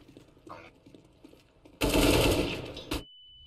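An M4 rifle in Counter-Strike: Global Offensive fires a dense, loud burst of about a second after quieter in-game sounds, then cuts to a steady tone.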